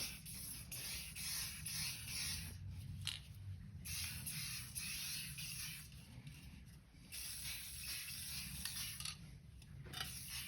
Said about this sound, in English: now we're going to get the second coat on the PTO shaft